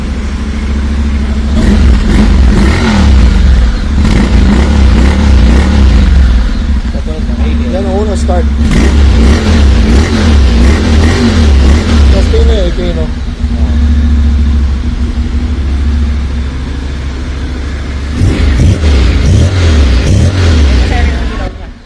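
A car engine on its first start rumbles loudly and revs repeatedly, rising and falling, while people talk and react over it.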